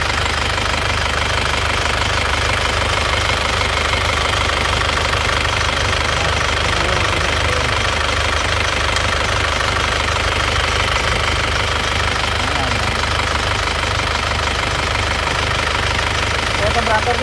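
The engine of a 2001 Isuzu Panther running steadily with a rough, knocking idle, close and continuous throughout with no pauses.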